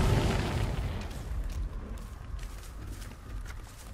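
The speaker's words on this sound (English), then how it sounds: "I'm gonna throw a fucking firecracker" Firecracker blast in Dead by Daylight: a heavy boom opens loud, then a noisy rumbling tail slowly fades with faint crackle, no voices over it.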